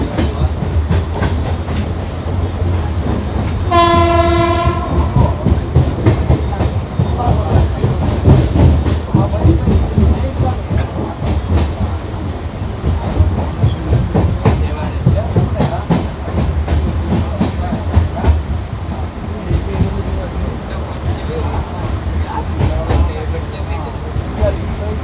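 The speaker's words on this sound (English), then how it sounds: "We pulled into platform number 1 of Kumta station at 5:20 p.m." The 12134 Mangaluru Mumbai Superfast Express slows into platform one at Kumta station, its loud rolling rumble and wheel clatter running throughout, a short horn blast early on, and voices in the carriage underneath.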